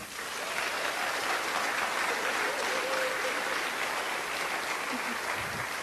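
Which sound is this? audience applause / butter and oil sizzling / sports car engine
audience applause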